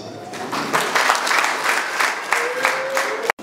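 Wedding guests at a Rwandan gusaba and gukwa ceremony break into applause, a steady wash of clapping from a crowd in pulsing waves, with a voice talking over it, ending abruptly.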